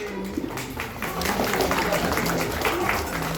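Loud applause for disabled children at a village council event in India, building after about a second into sustained crowd clapping, with some voices mixed in underneath.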